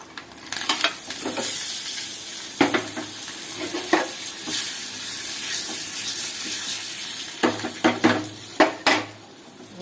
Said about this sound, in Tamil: இப்போ நல்லா பொரியுது. இப்போ அடுத்தது கருவேப்பிலை ஆட் பண்ணிக்கலாம்.